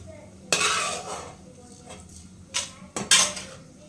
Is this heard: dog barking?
no